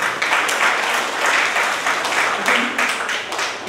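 A hall audience at a children's day drawing competition event in Sullia gives sustained, dense applause to welcome guests, loud and steady throughout.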